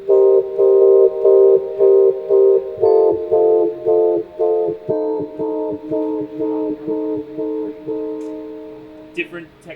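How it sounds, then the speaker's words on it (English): Synthesizer chords pumping in a steady rhythmic duck-and-swell pattern from manual sidechain-style volume shaping on a keyboard rig, each chord cut short and re-swelling in regular pulses, gradually fading toward the end. "Different techniques of trying to get that pumping sound"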